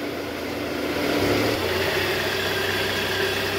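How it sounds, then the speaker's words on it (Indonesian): Car engine idling steadily at close range, a continuous even rumble with a faint rise partway through; the engine has a destroyed balancer shaft. "Oke, suara mesinnya normal ya guys."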